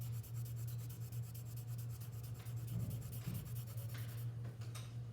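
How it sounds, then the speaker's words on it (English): H pencil shading a drawing of a cone and cylinder on paper, a faint, close scratchy rubbing made of quick repeated back-and-forth strokes over a low steady hum, with no talk. "I'm just using my H pencil just to put a little bit back there."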